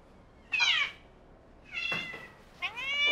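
A hungry cat meows three times, each call short and clear, at close range, with quiet gaps between and no talking.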